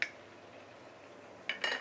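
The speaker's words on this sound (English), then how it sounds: "we are going to close the lid and let it cook" A lid set onto a cooking pot while Buddha's delight vegetables cook, a sharp metallic clink at the start, a quiet stretch, then two more quick clatters near the end, close and fairly faint.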